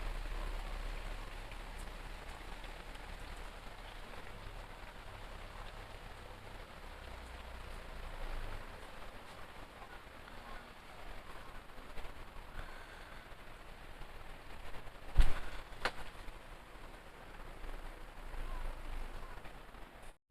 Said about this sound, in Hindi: अभी देखिएगा बाहर में ज़्यादा बारिश हो रहा है।